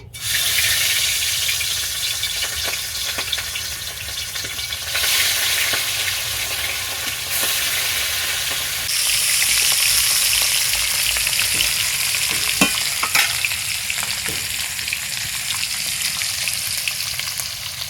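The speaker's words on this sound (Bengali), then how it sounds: "এবার আমি কড়াইতে মাছগুলো দিয়ে দেবো" Hilsa fish sizzle and crackle steadily in hot mustard oil in a wok, a close, continuous frying hiss with occasional sharper pops and no talking.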